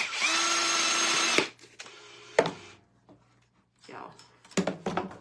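A power drill drives screws back in during holiday decorating, a loud whirring burst at the start followed by shorter intermittent bursts and clicks, with people talking quietly in between.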